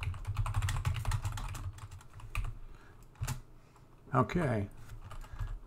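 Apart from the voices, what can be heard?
typing text on a computer keyboard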